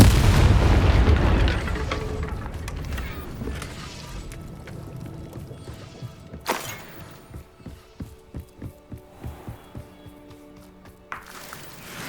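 Confringo blasting curse explosion in Hogwarts Legacy, a heavy booming blast that rumbles and fades, followed by scattered crackling impacts and further sharp bursts.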